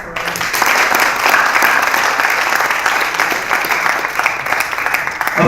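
Steady applause from the audience at an English debate event, a continuous wash of clapping throughout.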